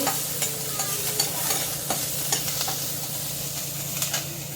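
Fresh coriander being stirred and sautéed in oil with ground black masala for stuffed ridge gourd, a steady close sizzle with scattered scraping stir clicks, no voices.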